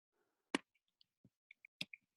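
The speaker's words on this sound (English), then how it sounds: "just me typing to you" Scattered keyboard keystrokes from a weekly team call, a few sharp isolated clicks and taps at irregular intervals, faint and close, with no talk.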